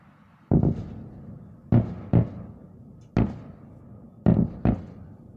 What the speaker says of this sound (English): we see flashes and explosions on the left side of the screen, possibly showing air defense attempting to intercept the ATACMS missiles